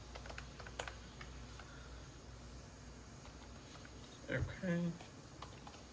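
Keys clatter on a ten-year-old laptop as a password is typed, quiet scattered taps at a low level, with a brief spoken word near the end.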